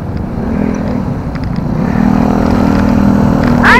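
A motorcycle carrying a passenger rides along with a steady engine drone that swells slightly as it speeds up, heard close and loud from on board.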